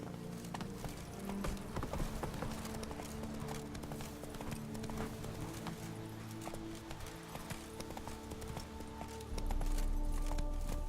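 Horse galloping in the video game The Witcher 3, hooves pounding in a steady, fast rhythm under a constant dense layer of game ambience and music for about eleven seconds.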